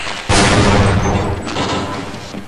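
Gunfire in the shooter Half-Life: Uplink erupts suddenly after a brief silence, a dense, loud barrage of shots that roars on for about two seconds before fading slightly.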